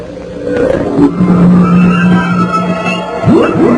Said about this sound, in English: the tape is pre-recorded electric noises that I stuck together